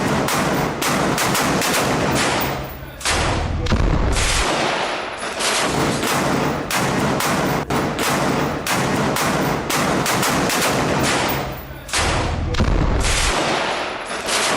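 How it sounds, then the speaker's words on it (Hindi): Heavy gunfire in close-range fighting at Kharkiv, Ukraine: dense, continuous bursts of rifle and machine-gun fire crackle loudly for the whole stretch, with a few deeper thuds breaking through, and no voices. "रूसी ठिकानों पर आमने सामने भारी फायरिंग।"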